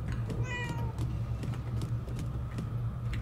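A cat meows once, clearly, in the video game Murdered: Soul Suspect, heard over a steady low game ambience hum.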